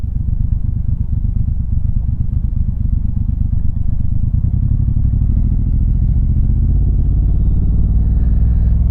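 A motorcycle on a North Carolina commute rolls off the road onto gravel, its engine a loud, close, continuous drone with a faint crunch and clatter, the pitch slowly rising toward the end.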